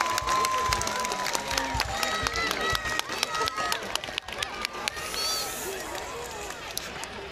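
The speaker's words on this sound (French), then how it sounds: "Allez, on les applaudit bien fort." A crowd applauds and cheers along the route of a night carnival parade in Denain, with scattered claps and hubbub, an announcer's voice over it and a brief rushing burst near the end.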